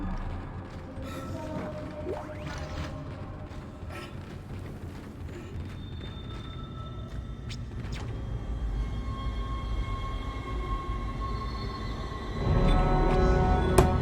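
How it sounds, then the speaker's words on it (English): Tram ride in the sci-fi horror game Dead Space: a low rumbling rail rattle with mechanical clanks and hums throughout, swelling into a heavier, louder roar near the end. "Return to the tram, I imagine."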